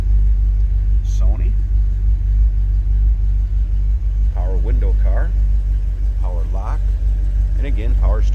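A 1980 Chevrolet Corvette coupe engine starts and idles with a steady low rumble throughout while someone talks over it at intervals.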